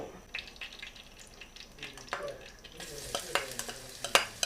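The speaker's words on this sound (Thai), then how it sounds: "กระเทียมที่โขกไว้นะคะลงไปผัด เจียวให้มันหอม ๆ" Crushed garlic fries in oil in a pan while being stirred, a soft sizzle with scraping and clinks that grow busier toward the end, quiet and close.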